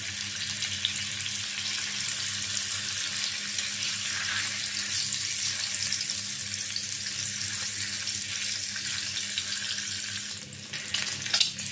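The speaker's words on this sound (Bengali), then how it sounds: "ডিম ভাজাটা হয়েছে" An egg seasoned with salt and turmeric fries in a pan with a steady soft sizzle and hiss throughout, then a few clinks and scrapes at the end; no one talks.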